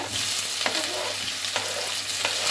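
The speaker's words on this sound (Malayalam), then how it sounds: "നമ്മൾ എടുത്തു വെച്ച ഗാർലിക്കിന് ആഡ് ചെയ്ത് കൊടുക്കാം" Garlic sizzles steadily in a hot pan for a pork and plantain dish, with a few brief stirring scrapes breaking through the continuous frying hiss; no voices.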